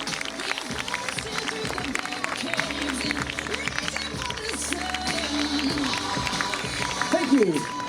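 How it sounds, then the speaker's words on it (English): Outdoor crowd applauding and cheering for doubles couples at a water ski show, steady clapping over background noise, with faint voices mixed in. "Big round of applause for our conventional doubles couples."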